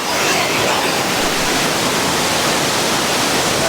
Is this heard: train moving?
no